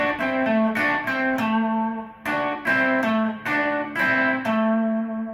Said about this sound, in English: And then we're going to play this double stop.